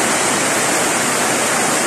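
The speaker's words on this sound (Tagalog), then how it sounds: "Mapaw siya sa sobrang dami na ng tubig, tapos dagdagan pa ng ulan" Heavy rainwater overflowing from a septic tank outside a house during a downpour makes a loud, constant rushing roar like a waterfall, with no voices over it.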